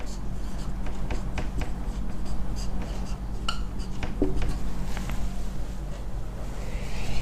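A formula is written on a classroom board in a physics lesson on motion, with close, steady scratchy strokes and light taps, and faint room noise underneath.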